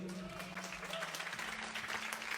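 Audience applause at a live show, a sustained wash of clapping layered with tonal music or voice, continuous and fairly loud.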